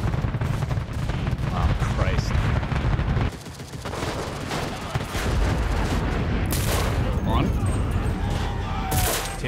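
Gunfire crackles through a WW2 firefight in the video game Enlisted, with a dense, continuous barrage of shots and blasts that briefly drops off before resuming loudly, with bright sharp reports near the end.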